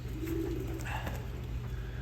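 Young racing pigeons coo steadily in a loft, a soft, low throaty warble that swells early and carries on over a constant electrical hum.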